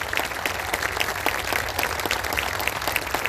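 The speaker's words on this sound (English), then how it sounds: "we applaud because that's the respect we have for you" A crowd at an outdoor Back the Blue police rally breaks into steady, dense applause, with many hands clapping together continuously and evenly throughout.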